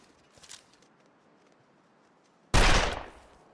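A pistol fires once in The Long Dark, a single sharp, loud shot with a short fading tail. Before it there is a stretch of quiet, with a faint shuffle or click.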